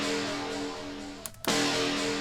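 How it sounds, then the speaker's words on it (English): A short synth stab in a dark tech house track built in Ableton, a sustained tonal electronic hit that cuts out briefly and then comes back in loud and full. "I have a little synth stab here"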